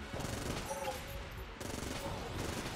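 Vulcan Cannon fire in Enter the Gungeon pours out as a dense, continuous rapid stream of shots, steady and loud with a brief dip partway through.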